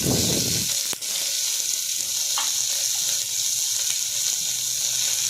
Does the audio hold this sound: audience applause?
no